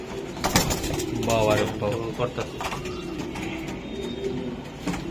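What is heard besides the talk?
frightened racing pigeons cooing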